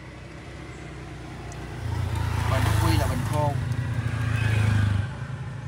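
Kia Morning 1.1 four-cylinder manual car engine idling smoothly with the hood open, a steady low hum that swells briefly louder mid-clip, while someone talks over it.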